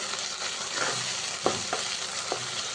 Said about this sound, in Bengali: একটু ভালো করে কষিয়ে নিই রসুনের গন্ধটা যখন চলে যাবে তখন আমি টমেটোগুলো দেব